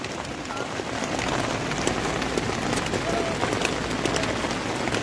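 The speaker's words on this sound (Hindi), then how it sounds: "बारिश होने लग गई थी भाई इधर," Steady rain falls on a tent at a camp near the India–Pakistan border in the Keran sector, a dense continuous patter of drops with brief louder splashes, close by and unbroken throughout.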